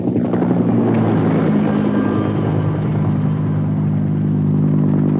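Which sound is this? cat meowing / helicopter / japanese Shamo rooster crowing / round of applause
helicopter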